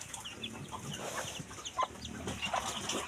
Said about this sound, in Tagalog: Ay sa loob nagpasok yung manok.